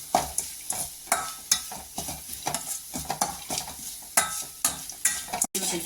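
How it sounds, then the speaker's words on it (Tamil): Grated coconut stirred and lightly sautéed in a pan for coconut rice, with a steady run of scraping utensil strokes against the pan bottom under a soft sizzle, close and fairly quiet, with no talking. "நல்லா இப்படி வணக்கி விட்டுக்கிட்டே இருக்கலாம்"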